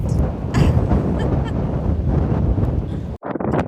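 Strong wind on a sunny day in Cornwall buffets the microphone in a continuous loud roar, broken by a brief drop near the end.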